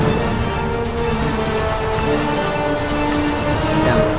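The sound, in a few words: rain in the video game Minecraft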